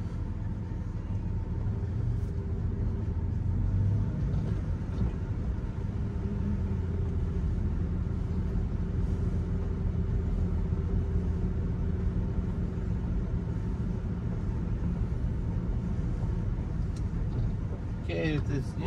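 A Ram 3500 Mega Cab 4x4 pickup with a Cummins diesel and six-speed manual gearbox drives along, its steady low engine rumble and road noise filling the cab throughout, with no clear pauses.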